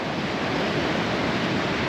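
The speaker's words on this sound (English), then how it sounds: "Big waves out there." Big ocean waves break and roll continuously along the Moroccan coast, a loud, steady roar of surf mixed with wind buffeting the microphone, with no voices.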